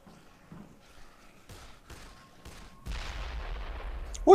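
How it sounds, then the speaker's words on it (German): Faint thuds and a few sharp bursts of gunfire in the video game Dead Island, then a louder low rumbling blast near the end, all fairly quiet. "Ich schieß drauf."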